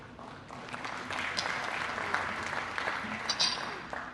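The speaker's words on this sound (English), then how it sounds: "Let's give them another round of applause" Conference audience clapping for a session, a moderate, fairly distant round of applause that swells and continues steadily with no talking over it.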